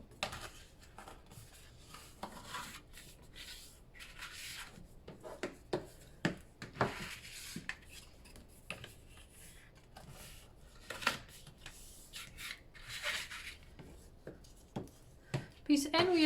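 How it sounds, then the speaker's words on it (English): Paper is folded along a scored line and burnished while making a baby scrapbook page, with soft rubbing and sliding strokes and scattered small taps between stretches of quiet, a voice talking throughout. "I'm going to fold and burnish the score line"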